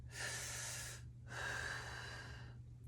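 Two long, steady breaths drawn in and pushed out through the mouth during a coaching exercise for lower back pain, close and soft, over a low constant hum.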